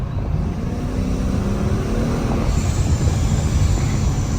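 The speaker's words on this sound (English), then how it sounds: "all you're gonna hear is induction sound" An ESS-supercharged Ford Mustang with a valved exhaust runs under a light tap of the gas, a low engine rumble joined by a thin, high supercharger induction whine that rises in about halfway through.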